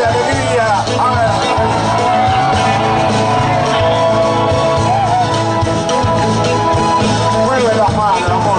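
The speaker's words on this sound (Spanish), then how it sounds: "A ver ese grito de alegría." Crowd shouting and whooping with joy at a murga show, a loud, dense roar of many voices sustained throughout over music.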